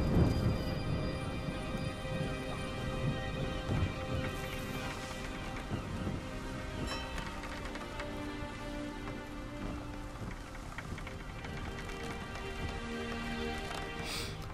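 Steady heavy rain hisses across a stormy scene in Assassin's Creed 3, loud and continuous, with scattered rumbling and a sharper crack partway through; no talking.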